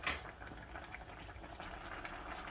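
Pot of lentils and rice at a steady boil on a hob, a soft continuous bubbling and burbling at fairly low level, heard close up without any talk.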